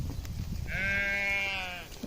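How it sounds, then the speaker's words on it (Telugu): A lamb bleats once in a village among goats and lambs, a single clear wavering call about a second long, close by over low background rumble. "ఈ గొర్రె పిల్లలు, బుడ్డ గొర్రె పిల్లలు భలే ఉన్నాయి"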